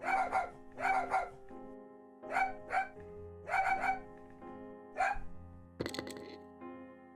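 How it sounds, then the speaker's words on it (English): A dog in the Bertram Fiddle video game barks in short repeated bursts, five or six sharp yaps in uneven pairs over a low hum, followed by a few clattering thuds. "that barking was starting to drive me insane"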